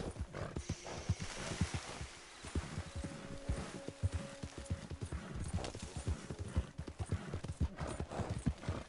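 Horse hooves clip-clop steadily in Red Dead Online, a dense run of close, fairly loud strikes with faint game sounds underneath.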